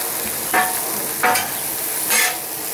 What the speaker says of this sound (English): Cook the eggs now.